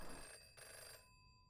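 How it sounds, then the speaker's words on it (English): Telephone bell ringing in the video game Knuckle Sandwich, a steady electronic ring with sustained tones that drops out near the end, heard alone with no talk. "Go answer the phone."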